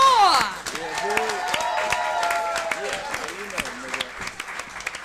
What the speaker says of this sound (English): Give us a round of applause for Joseph Moore